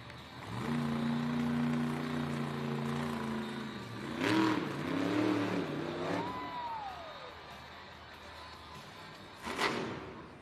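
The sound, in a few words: Grave Digger monster truck engine revving at Monster Jam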